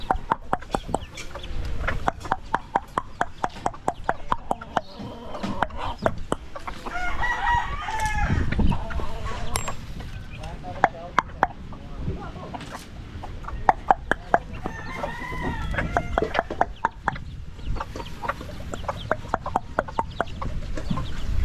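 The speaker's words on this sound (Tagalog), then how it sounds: "Ang sisiw ko. Ang sisiw ko." Chickens and chicks cluck and peep busily while being fed, with repeated sharp pecking taps and occasional rooster-like calls, close and lively throughout without talk.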